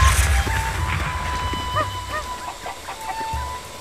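Cucco chickens in Zelda: Breath of the Wild cluck and squawk in short bursts over a steady game background. The calls are moderately close and tumble over each other.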